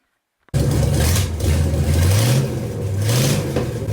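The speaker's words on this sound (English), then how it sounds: "New pump, we're ready for a burnout." A 1968 Plymouth Road Runner, revived with a new oil pump after 25 years parked in a field, bursts to life after brief silence and roars loud and close for a burnout, revs swelling and surging twice.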